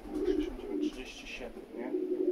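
Pigeons in a breeding loft give low, repeated cooing calls, close by and fairly steady across the moment, with some faint higher rustle above them.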